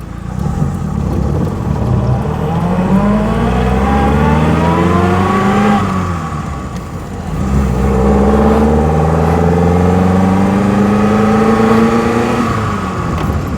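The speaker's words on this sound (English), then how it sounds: "It's only really that first gear noise that gives it away" A 1930s Lancia Aprilia pulling away in first gear, loud and close, with a rising whine of gear and engine that climbs, briefly drops at a shift, then rises again steadily.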